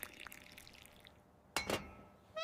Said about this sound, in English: I pour tea.